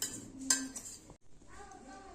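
Crushed Oreo biscuits are tipped into a bowl, with soft clinks and taps of a spoon against the dish and a brief scraping rustle.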